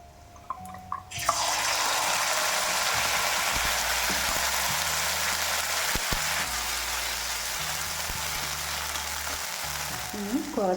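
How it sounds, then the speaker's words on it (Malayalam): Ginger paste hits hot oil with fried green chillies for Kerala-style ginger pachadi, bursting into a loud, continuous sizzle that carries on evenly, with a few faint utensil knocks. "ഇനി നമുക്ക് ഇഞ്ചി പേസ്റ്റ് അതിലേക്ക് ഒഴിച്ച് കൊടുക്കാം."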